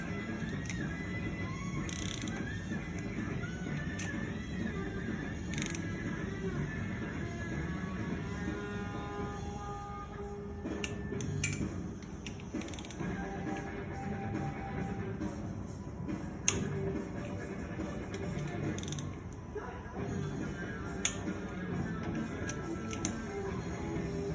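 Bolts on a Dodge 2.7 liter engine oil pump being tightened, heard as a run of small metallic ratcheting clicks and tool clinks in a steady working rhythm, with no talking.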